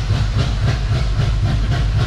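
An LB7 diesel truck engine with a lope tune runs at full throttle, a loud, continuous low rumble with a rhythmic lumpy pulse and hiss, no voices.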